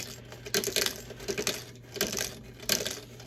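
A pencil-style deburring tool scraping around the cut end of a pipe before fitting a SharkBite push-to-connect connector, giving a few irregular bursts of gritty scraping and clicking, close and fairly quiet, with no talking.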